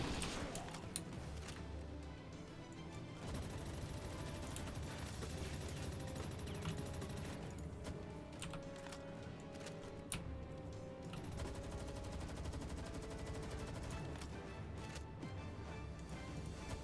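Assault rifle fire in Palworld, with dense bursts of rapid shots over a constant game soundscape, loud and sustained through the whole stretch.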